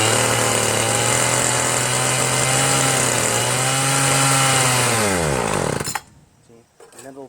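A Ryobi 31cc gas rototiller engine with a suspected dirty carburetor runs with a loud, steady buzzing drone, then sags and bogs down before cutting out abruptly near the end.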